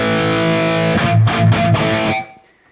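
A saturated high-gain electric guitar through a 5150 amp model on the UK Modern channel with a stock cabinet plays a sustained chord, then a few chugged palm-muted hits before cutting off into silence.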